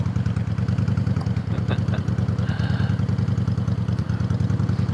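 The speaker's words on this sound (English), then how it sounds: "pull up next to the motorcycle here." A Honda motorcycle parked downtown idles with a steady, low, rapid engine putter that runs throughout, loud and close, with faint background clatter.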